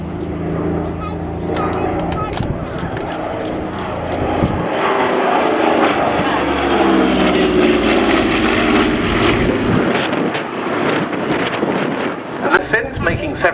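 Twin piston engines of a Douglas A-26C Invader drone and swell as the aircraft passes during a flying display at Duxford, loud and rising then fading, with a commentator talking over the roar.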